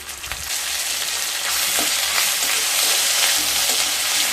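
A bay leaf and half a spoon of ginger paste sizzle and crackle steadily in hot oil over a low flame with asafoetida, a continuous close frying hiss for a Bengali shukto dal, with no voices.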